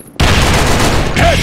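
A grenade explodes in an online shooter game: a sudden, loud, close blast that swells into a sustained roar.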